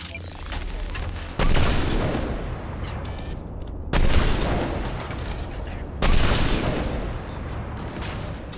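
Heavy video-game gunfire ending in a headshot on Insanity difficulty, with three loud, booming bursts spaced a couple of seconds apart over a dense, continuous battle rumble.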